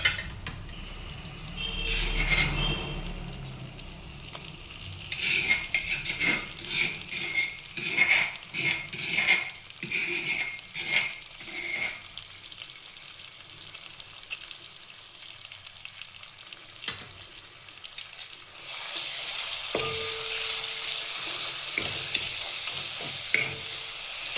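Gongura (sorrel leaf) pickle ingredients with curry leaves sauté in hot oil in a pan, a steady close sizzle and frying hiss under repeated scraping stirs of a spoon against the metal, with no one speaking.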